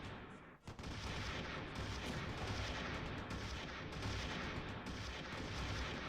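Distant gunfire from the WWII strategy game Close Combat 3, with a Russian elite unit under fire: a dense, continuous crackle of small arms and heavier thumps, steady and fairly faint.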